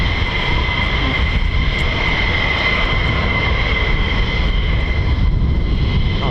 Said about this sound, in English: Oh, it's the F-15.